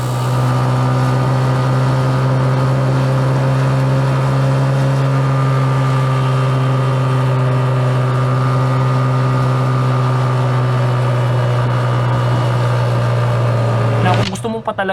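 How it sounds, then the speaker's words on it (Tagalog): A big-bike motorcycle engine runs steadily and loud up close, holding a deep sustained drone with strong harmonics for about fourteen seconds before a brief burst of noise at the end. "yung motor mo big bike na talagang masarap pakinggan yung tunog ng makina"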